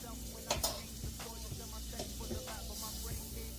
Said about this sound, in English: I'm literally just putting butter and like getting it toasted in the pan